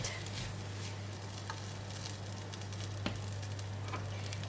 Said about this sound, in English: I'm going to stir the rice over so we have the mixture of eggs and rice well coated